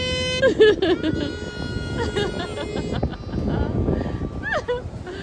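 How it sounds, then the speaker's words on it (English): Horns hoot repeatedly near Queenborough harbour, with several rising toots standing out among a busy mix of voices talking and background noise. "Who's hooting at me?"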